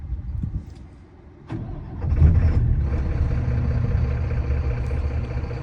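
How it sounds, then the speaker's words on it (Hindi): A BharatBenz truck's OM 926 LA diesel engine is started after a quiet moment with a few clunks, then settles into a loud, steady, rumbling idle up close. "मैं अभी गाड़ी स्टार्ट करूँगा और इसका आइडल आरपीएम देखेंगे कितने का रहता है"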